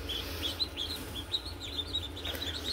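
Blue Runner ducklings peep in a rapid, steady stream of high, thin chirps, faint and somewhat distant over a low hum.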